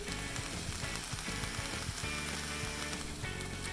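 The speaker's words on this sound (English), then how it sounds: "Do you hear the sound of our onions cooking?" Onions sizzle in a hot pan with a dense, steady crackle, close and continuous, and no voices over it.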